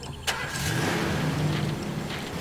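A car engine starts in the Far Cry 2 video game: a sharp click, then a cranking catch that settles into a steady mid-range idle hum, fairly close and loud, with no talk.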